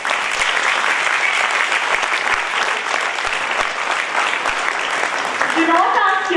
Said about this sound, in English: give yourselves a huge round of applause for being such wonderful parents